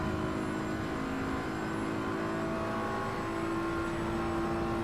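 A car engine drifting in Assetto Corsa, a loud, steady droning whine with sustained harmonic tones held at high revs throughout, no voices over it.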